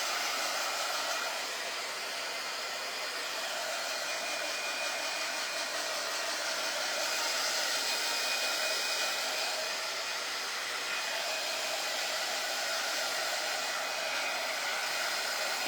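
A hair dryer blows continuously to dry a craft piece, a steady, close airy whoosh with a faint whine that holds level without pause.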